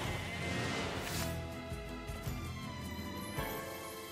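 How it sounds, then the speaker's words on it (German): Sheep in the video game NieR Replicant give a short, faint bleat against a constant background of game music and ambience. "Schaf!"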